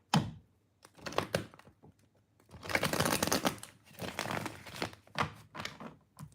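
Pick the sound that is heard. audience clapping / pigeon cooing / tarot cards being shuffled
tarot cards being shuffled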